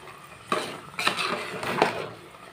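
Sweet pongal (sakkarai pongal) being stirred in a pot over low heat, three distinct metallic scrapes and clinks of a spoon against the vessel, close and fairly quiet, no voices.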